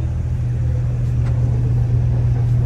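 A race car engine at the Spa circuit, with Ferrari 488 Challenge cars nearby, gives a steady, loud low rumble close by. The idle holds throughout with only slight swells and no talk.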